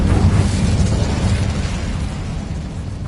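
An Incendio fire spell in Hogwarts Legacy bursts with a loud, deep rumbling whoosh that starts strong and slowly fades, filling the whole moment with a low roar.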